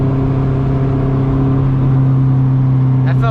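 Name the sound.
Honda CRX with B17 engine accelerating hard in second gear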